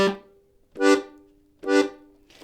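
Piano accordion playing the Donegal Mazurka with a G bass note followed by chord, three separate bass-and-chord bursts in a slow, even rhythm, close and clear without any talking.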